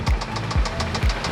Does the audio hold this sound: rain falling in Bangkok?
no